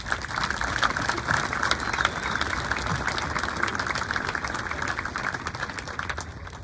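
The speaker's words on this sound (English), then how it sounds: "you deserve a round of applause for that" Audience applause at a 2022 middle school graduation ceremony, a steady dense wash of clapping that holds evenly for several seconds and eases slightly at the end, with no talk over it.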